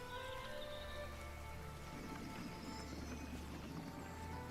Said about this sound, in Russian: Может, дождь пошел? Прям ливень такой.